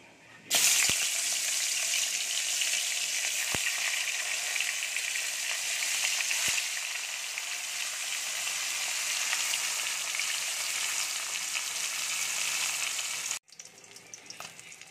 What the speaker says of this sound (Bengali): আমি এইভাবে বাকি সব মাছগুলোকে ভেজে নেব